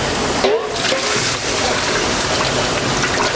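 Water is poured into a pot of blended tomato sauce as a continuous, close, rushing gush that lasts the whole stretch.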